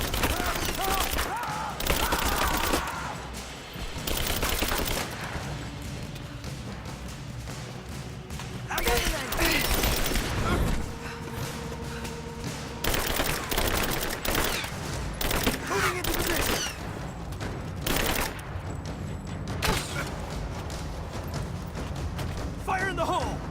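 Video game gunfire in Rise of the Tomb Raider, set in a red mine: repeated bursts of shots and impacts under game music and shouting voices throughout.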